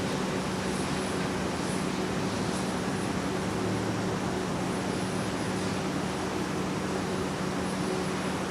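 An airliner arriving from Denver at Minneapolis–St. Paul airport gives a steady, distant jet rumble and whine that holds evenly throughout, with no voices.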